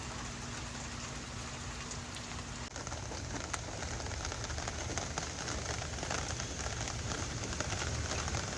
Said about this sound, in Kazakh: Dağda жаңбыр жауып тұр.